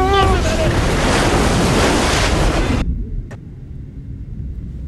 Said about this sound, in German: Das ist die perfekte Welle!